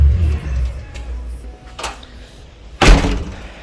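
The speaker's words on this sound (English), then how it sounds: "this door here leads to the outside" An outside deck door of a house in East Tennessee opens with a sharp, close thunk near the end, after a fainter click and a low room rumble.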